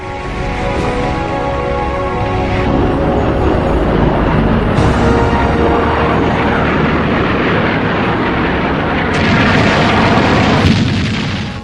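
US attack planes from aircraft carriers striking North Vietnamese radar sites in March 1965: loud, continuous roar of jet aircraft engines mixed with dense booming explosions throughout.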